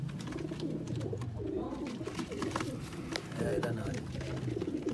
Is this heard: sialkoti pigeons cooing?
yes